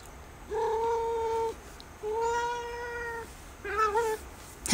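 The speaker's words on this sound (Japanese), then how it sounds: "ちょっと猫がまた邪魔をしに来ましたけれども。" A house cat meowing close by during indoor crochet, three drawn-out calls with pauses between, the last shorter and wavering, no talk over them.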